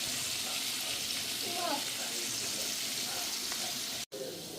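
Chicken frying in oil, a continuous close hiss and crackle of sizzling that runs steadily through, with a brief dropout near the end.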